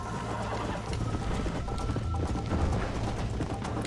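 Horse hooves clip-clop in the video game Red Dead Redemption, a dense, continuous patter of hoofbeats at a steady gallop, fairly loud and close, with no talking.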